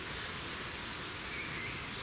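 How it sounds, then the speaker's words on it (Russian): Light rain falls steadily in a forest, a faint, even hiss of drops with no other sounds. "Дождик потихонечку усиливается."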